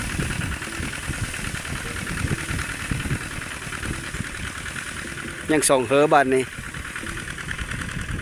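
A tractor engine runs steadily in a rice-farming village, its continuous rumbling drone unbroken throughout, while someone speaks briefly over it near the end.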